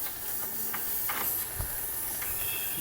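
A torch flame heats a century-old nut and bolt, giving a steady, close hiss like frying bacon with faint crackles, alone and without voices.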